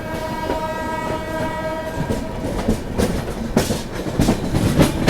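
The Lucknow Shatabdi Express passenger train rolls into New Delhi railway station with steady rumble and clacking, metallic squeals and brief bursts of noise rising over the continuous mechanical drone.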